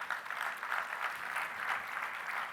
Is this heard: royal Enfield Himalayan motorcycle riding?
no